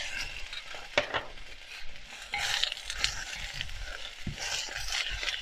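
Onion, carrot and tomato stir-fried in a pan: a continuous scraping and stirring with a soft sizzle underneath and a few sharper utensil knocks against the pan, steady and close, with no talking.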